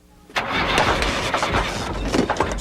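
A tractor engine cranks over and catches with a sudden loud burst, then keeps running rough and steady close by, with brief clanks over the engine's drone.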